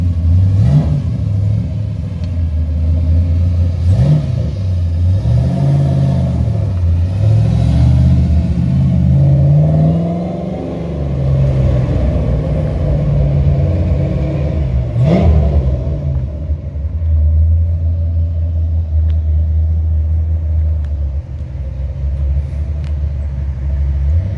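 A car with a rebuilt Ford small-block 302 V8 making 375 horsepower rumbles loudly as it drives, rising and falling through several revs and gear changes, with no one speaking.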